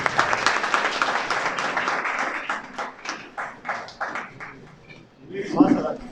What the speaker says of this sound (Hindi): सभी जोरदार ताली बजाएं।